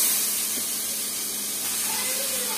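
Potatoes fry in a pan for a dried loitta fish curry with bean seeds, giving a steady, close sizzling hiss throughout.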